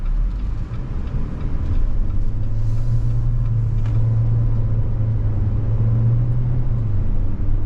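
A 2023 Jeep Renegade Limited 4x4 with a 9-speed automatic cruises on the road, its engine and tyre noise forming a steady, loud low rumble heard from inside the cabin, with no talking.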